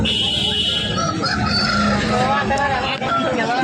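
Roosters crow and hens cluck at a busy, noisy outdoor rooster market in J Mamidada, with murmuring voices and bustle underneath.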